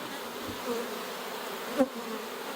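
Honey bees humming in a hive, a soft steady drone with a couple of individual bees buzzing briefly closer, one louder pass near the end.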